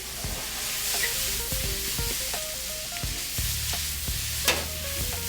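Fresh spinach cooks down in a pan for Cajun cooking, a steady close sizzle and hiss with occasional stirring knocks and scrapes against the pan, with no speech.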